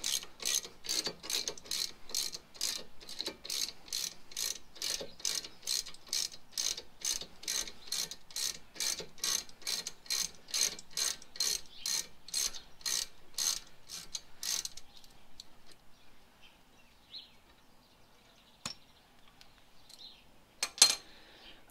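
Ratchet wrench loosening the front brake caliper bolts on a 2013 Ford Edge, a steady run of fast, even clicks close by for about fifteen seconds, then fading to faint scattered clinks with one sharp knock near the end.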